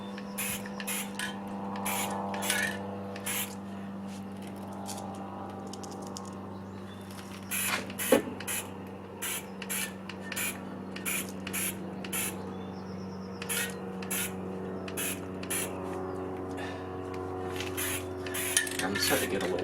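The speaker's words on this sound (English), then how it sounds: "I think that spray is kind of overspraying." Spray sealant hisses from a can onto stamped paper scenes in repeated short bursts, each a sharp, close blast of spray separated by brief pauses, over a steady low hum.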